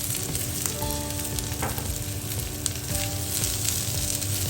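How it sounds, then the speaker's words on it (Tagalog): Onions sautéing in a pan for a chicken feet curry, already cooked with garlic and ginger, giving a continuous loud sizzle with occasional stirring scrapes and no talk. "gigisayin natin yung ating sibuyas hanggang maging translucent siya"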